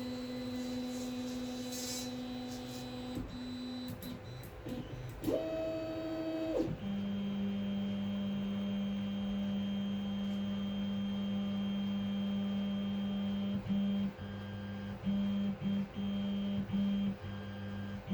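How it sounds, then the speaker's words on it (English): A Sunlu S8 3D printer printing tripod parts gives off quiet, steady stepper-motor tones. The pitch shifts between notes and clicks in places over a constant low hum. "I'm printing out new tripod parts so I can actually use my tripod again"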